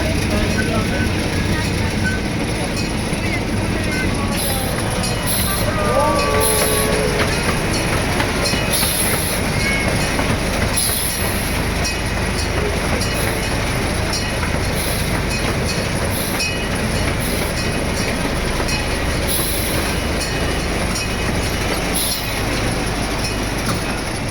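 A zoo ride train at the Vancouver zoo rolls steadily along its rails, with continuous rumbling, clattering wheels and occasional squeals, while people talk over the running noise throughout.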